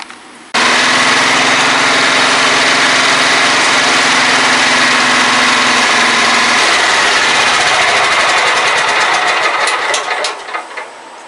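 An old Craftsman lawn mower engine, being converted into a lifted garden tractor, starts abruptly and runs loud and steady close by for about ten seconds before sputtering and winding down.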